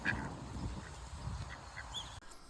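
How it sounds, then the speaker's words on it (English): Ducks quack and honk faintly at an interactive cafe in New Zealand, a few scattered calls amid low background murmur. "I found a cafe that was featuring ducks and stuff."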